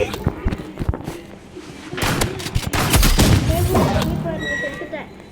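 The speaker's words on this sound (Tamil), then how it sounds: "rocket launcher" Rocket launcher fire and explosions in the Roblox video game, with bursts of shots and a heavy boom in the middle, under excited talking.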